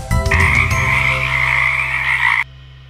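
Cartoon frogs on a log let out one loud, sustained croak lasting about two seconds, a steady buzzing tone that cuts off abruptly, with no voices over it.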